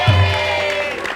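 Studio audience of an Indonesian TV talk show breaks into applause and cheering, a loud burst at the start that carries on steadily and then eases slightly toward the end.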